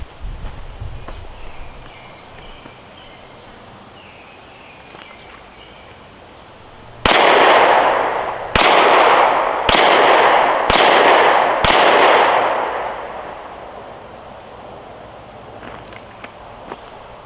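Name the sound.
continuous shots fired from Glock 43X pistol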